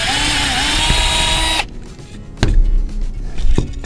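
A power drill bores a large hole into a piece of wood laid over another board, its motor whining steadily for over a second before dropping to rougher, intermittent grinding and clunks as the bit cuts through.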